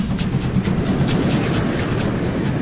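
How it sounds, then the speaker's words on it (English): A steam locomotive rumbles steadily nearby, a dense low chugging drone with a rapid rhythmic clatter running through it throughout. "Steam locomotive."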